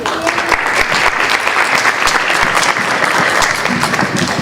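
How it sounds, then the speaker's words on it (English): A crowd at a school board meeting claps steadily and loudly, dense applause continuing throughout without a break. "we'd like to give you a round of applause"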